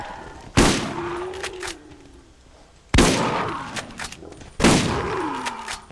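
Three loud, close shotgun blasts from the Borderlands video game, spaced a couple of seconds apart, each followed by a ringing decay and small clanks.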